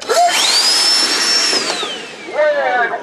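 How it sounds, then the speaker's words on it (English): A modified power tool screams down a race track at a robot event. A loud whining motor sweeps up in pitch, holds, then fades as it passes, and a second rising whine follows near the end. "It is modified power tools that we race down a track"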